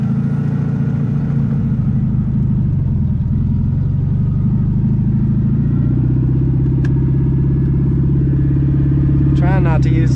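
An abandoned old Volkswagen Beetle, first started in 30 years, rumbles steadily along the road on its way to the shop, a low continuous engine drone close by with people talking over it.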